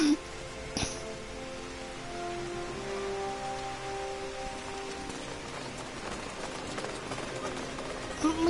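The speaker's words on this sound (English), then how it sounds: "Of course it's raining." Steady rain in Final Fantasy XIV Online hisses across the whole stretch, with a soft musical tone drifting underneath and a sharp click near the start.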